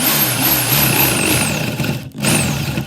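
A precision power drill bores into model parts, its high motor whine rising and falling in repeated pitch sweeps, cutting out briefly, then spinning up again close by.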